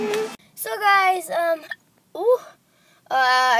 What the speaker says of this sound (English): I caught the hiccups again.